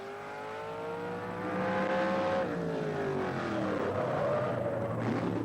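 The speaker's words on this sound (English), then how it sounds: "Burning rubber" A fire truck at a 1977 New York State Championship event in Cicero skids and burns rubber, a loud rising engine whine with sweeping tire squeal that swells and then scrubs down into harsh, gritty skidding.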